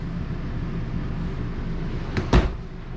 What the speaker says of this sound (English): All ball bearing, full extension drawer guides.